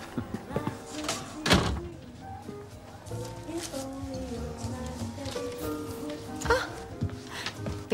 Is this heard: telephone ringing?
no